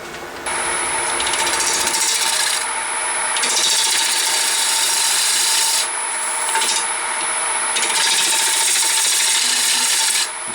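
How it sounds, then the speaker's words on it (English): Wood platter edge being turned on a lathe with the tailstock in place, heavy cuts removing material: a loud, steady rasping scrape with a high whine, pausing briefly a few times between passes. "There's quite a lot of material being removed because my design doesn't use the full thickness of this piece of wood."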